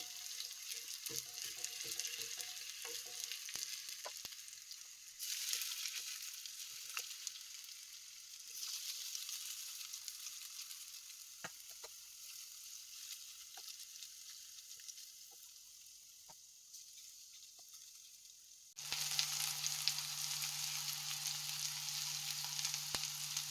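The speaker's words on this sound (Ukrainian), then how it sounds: "Смажимо на середньому вогні до, з двох боків до золотистої, золотистої скориночки до готовності" Steady oil sizzle and crackle of chopped chicken cutlets frying in a pan over medium heat, continuous throughout, with a louder burst of sizzling near the end.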